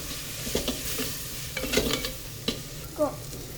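Chili powder and coriander powder frying in a pan, with soft sizzling under repeated stirring scrapes and a few sharper clinks of the spoon, close and steady.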